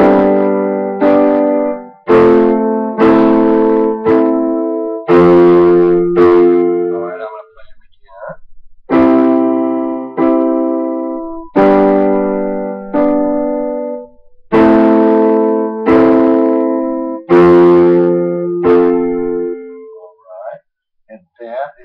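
Piano chords with a bass line underneath, played as a progression in repeated sustained blocks with brief gaps between them, loud and close with no talking.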